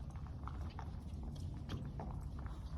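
Hooves of a horse clip-clop at a walk on soft ground while a rider works cows, with quiet rhythmic steps and a low murmur of background noise.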